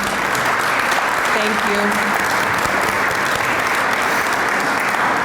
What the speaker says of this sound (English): How about one final round of applause for our new Heritage Society members?